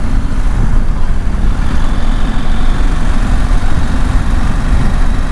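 A 2021 KTM 890 Adventure motorcycle hums steadily and loudly from close by while riding, with a continuous low engine drone and no distinct gear change standing out.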